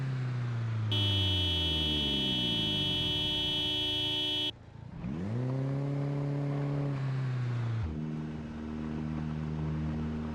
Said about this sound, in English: Please follow the sounds of my horn honking.